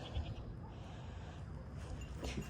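Goats bleat on a farm, with a few faint cries coming through a soft background of movement and low ambient noise.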